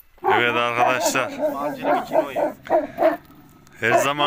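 Alabai puppies in a car bark and yip in a quick, close cluster of sharp, high yelps, with a short pause before a final bark.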